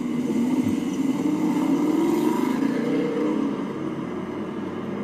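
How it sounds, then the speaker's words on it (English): A Ford Mustang V8 with manual transmission rumbles steadily with a deep exhaust tone, holding fairly constant before easing slightly, no voices. "Kind of an interesting exhaust tone on that."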